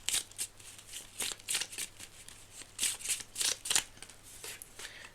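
Tarot cards being handled and shuffled up close, a run of soft, papery riffles and flicks in irregular bursts, fairly quiet with no talking.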